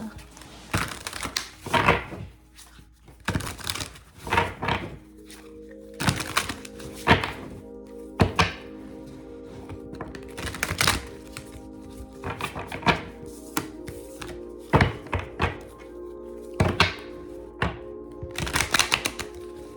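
Tarot cards shuffled by hand, giving repeated crisp riffling bursts and soft thumps at irregular intervals over a steady low background tone.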